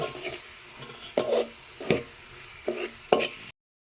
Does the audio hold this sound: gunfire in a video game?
no